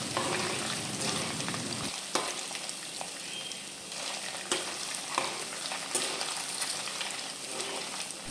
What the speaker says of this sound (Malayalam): തേങ്ങാക്കൊത്ത് അവിടെ കിടന്ന് മൂത്ത് വരുന്ന സമയത്ത്